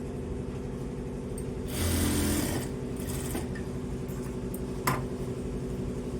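A sewing machine stitching a blouse hums and whirs steadily up close, running at an even pace with a brief louder, faster burst partway through and a small clunk near the end.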